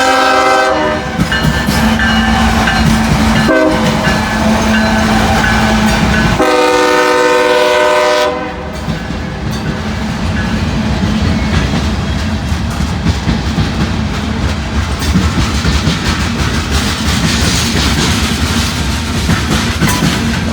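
A freight train rumbles steadily past, close and loud, with a long blaring horn blast in the first several seconds before the rolling rail noise carries on alone.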